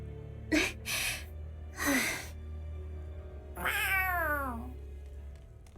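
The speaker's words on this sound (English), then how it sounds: "Hello, kitty. A cat?" A black cat in the video game Tales of Arise meows several times, a few short calls followed by a longer drawn-out, wavering meow, clear and close with no speech over it.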